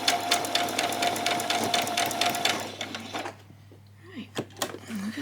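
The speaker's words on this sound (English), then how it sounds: "do a back stitch" A domestic sewing machine runs a rapid back stitch for under three seconds while sewing a bodice, then stops, leaving faint handling noises and murmured talk.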